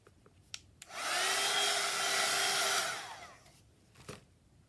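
A hair dryer dries a freshly worked junk journal page, switching on with a steady, loud whooshing roar for about two seconds before winding down. A few faint paper taps come before and after.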